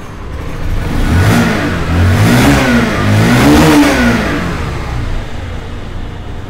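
A motorbike engine, its idle set to about 1200 RPM, revs up and down in two or three swelling surges, close and loud, with no voices.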